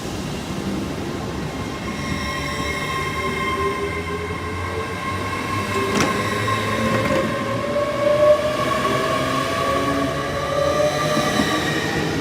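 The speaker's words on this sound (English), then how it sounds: "The 12:30 LNER service from Lincoln Central to London King's Cross," An LNER class 800 train running from Lincoln Central to London King's Cross passes close and loud, with a continuous rumble, tonal whine rising and falling, and faint wheel squeal, with no voices.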